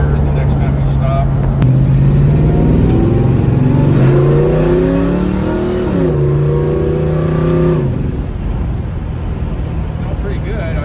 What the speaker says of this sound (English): I'll maybe step on it a little harder the next time we stop.